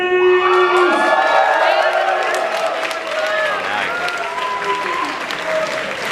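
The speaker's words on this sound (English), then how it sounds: "Give a big round of applause for Tony, please!" A convention crowd at a My Little Pony fan event bursts into loud, dense applause with cheering and whoops. The sound is close and sustained throughout, and the cheering voices hold pitched tones over the steady clapping.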